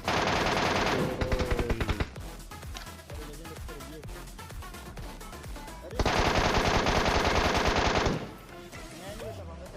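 Automatic MK rifle fire in PUBG during a push on enemies, two long loud bursts of rapid gunfire separated by scattered single shots and impacts, with game sounds throughout.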